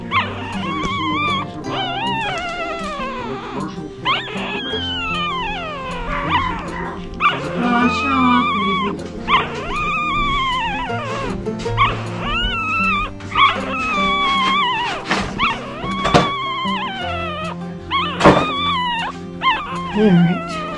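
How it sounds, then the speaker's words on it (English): Newborn West Highland White Terrier puppies held in the palm whimper and squeal while sleeping, a loud close run of repeated rising yips and thin cries with a few quiet background voices. "They like to make their little noises while they're sleeping."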